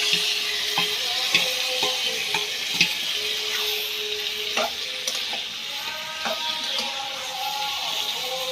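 Spiced mutton fries with browned onions in a hot pot, giving a continuous loud sizzle broken by repeated scraping and clattering strokes of a spoon stirring, close by and with no talking.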